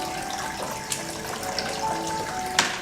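A pedicure tub fills from a running tap, water pouring in a steady, moderately loud stream with a few small splashes and knocks on top.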